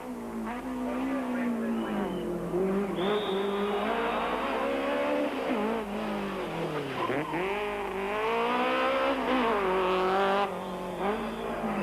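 A Mitsubishi Conquest rally car in the 1993 Volkswagen Algoa Rally accelerates through a tight parking-lot stage, engine revving loud and close with rising and falling pitch as it swings through bends, tires squealing at moments.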